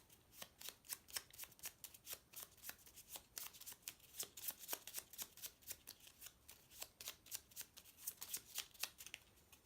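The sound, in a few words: shuffling a deck of game cards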